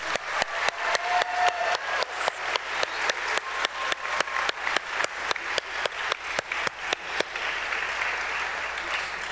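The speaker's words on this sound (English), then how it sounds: "So please give these students a round of applause." Choir students at a high school spring performance receive applause, with sharp, evenly spaced loud claps standing out over a softer crowd clapping; the rhythmic claps stop and a looser wash of applause lingers.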